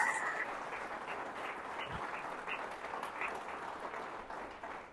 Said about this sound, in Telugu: సో సార్ గురించి ఒకసారి గ్రేట్ రౌండ్ ఆఫ్ అప్లాజ్ ఇవ్వచ్చు.